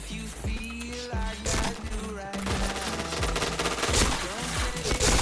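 Rapid bursts of gunfire ring out in a shooting video game, loud and dense, with short repeated volleys stacking over a steady low game rumble and occasional speech.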